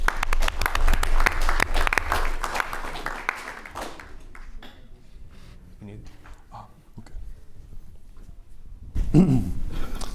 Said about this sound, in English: Let's give a round of applause for Daniel.